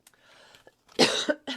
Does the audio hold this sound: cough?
yes